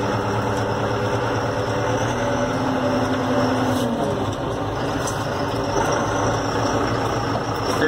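New Holland T5.80 tractor engine running steadily in third gear in range 3 with the hand throttle set around 1000 rpm, a loud continuous low diesel drone with mechanical rattle, close by and without talk.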